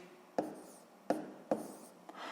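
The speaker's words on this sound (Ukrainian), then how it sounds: "Записуємо 56" Pen or pencil writing a number by hand on paper during a maths lesson, a few short scratchy strokes with small taps, close and quiet, no talking.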